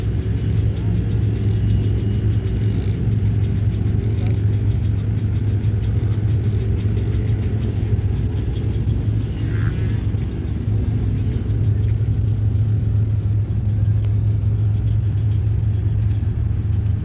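Race car stuck at a Mideast racing weekend at Pea Ridge, its engine giving a steady loud low rumble that holds without pause through the whole stretch, with some faint background murmur.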